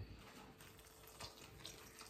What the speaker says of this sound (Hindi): अब मैं इसमें डाल रही हूँ गरम पानी, पानी में से भाप आ रही है